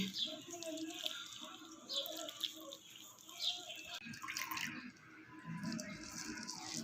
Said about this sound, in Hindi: अब हम हाथों की मदद से इसको अच्छे तरीके से धो लेंगे।